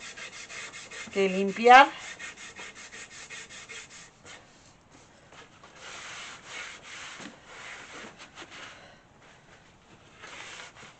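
Hand sanding of an old weathered wooden piece during restoration: a steady, close scraping rub in repeated strokes, with a brief louder burst early on and quieter passes after, alongside a few spoken words.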